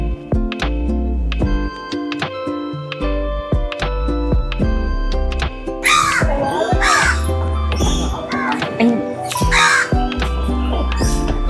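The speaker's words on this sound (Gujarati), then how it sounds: "ગાર્ડનની અંદર એટલા બધા પક્ષીઓ તમને દેશ વિદેશના જોવા મળશે" Many birds call in a walk-in aviary at a garden, with sharp repeated calls and caws stacking over each other throughout, growing denser and shriller in the second half, close and loud.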